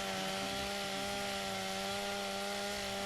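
A chainsaw sword buzzing steadily in a metaverse roleplay game, a constant motor drone with a harsh rasping edge, loud and unbroken throughout with no talk.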